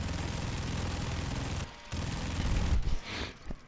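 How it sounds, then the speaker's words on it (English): Minigun in the Dread video game spinning up and firing in a continuous dense rattle of rapid shots, broken by a brief pause before another burst and a few trailing shots. "you can start spinning the barrel on your minigun with your right click"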